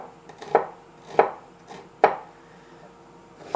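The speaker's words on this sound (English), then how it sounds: "So I'm just dicing this onion for things like the quesadilla." A knife dicing a yellow onion on a cutting board, three or four distinct chops spaced about half a second apart, close and crisp.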